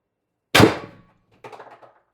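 X-68 CO2-powered launcher firing a 10 g riot ball on 36 g cartridges, one sharp loud crack with a quick decay followed by a fainter rattling clatter, close up.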